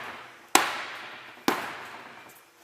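Two sharp, loud metal impacts about a second apart as a firefighter strikes an inward-swinging door with a forcible entry tool, each blow ringing out and decaying quickly.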